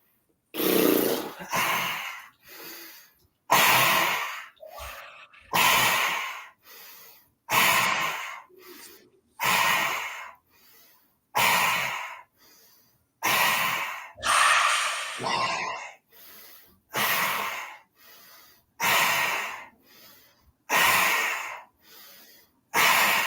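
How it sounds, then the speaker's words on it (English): Yoga breathing done in through the nose, a long series of about fifteen loud, close inhalations and exhalations in a steady rhythm with brief pauses between, heard alone with no talking. "So I'm going to breathe in the nose."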